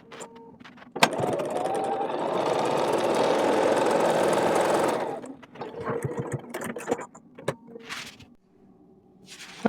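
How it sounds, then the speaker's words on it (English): A sewing machine stitches a split quarter square triangle quilt unit along a drawn line, running in one loud, steady whir for about four seconds, then stopping among softer handling clicks and rustles. "now I'm going to sew directly on that line in order to make 1 split quarter square triangle unit."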